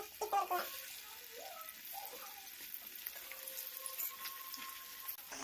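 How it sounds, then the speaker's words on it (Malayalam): Marinated chicken pieces sizzling in hot oil in a pan, a soft steady crackle and hiss with a few louder spits early on, fairly quiet throughout. "അപ്പം നമ്മളിവിടെ ആദ്യത്തെ ബാച്ച് ചിക്കന് ഫ്രൈ ചെയ്യാനായിട്ട് പാനിൽ ഇട്ടിട്ടുണ്ട്"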